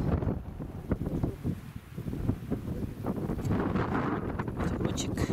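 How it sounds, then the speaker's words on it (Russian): Wind blowing steadily across a microphone beside a pond during a daytime outdoor lunch, a continuous rumbling buffet with gusts that stays loud throughout. "Ветерочек, как обычно, днем. Шум, конечно, будет сильный."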